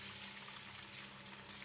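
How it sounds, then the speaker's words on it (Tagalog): Water poured from a tap or container into a cooking pot of lentils, a steady close trickling and filling sound with no break and no voices. "Lagyan po natin ng tubig."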